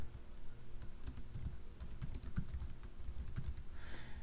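Keys clatter in irregular bursts as sample text is typed on a computer keyboard, light taps close by over a low background hum, with no voices.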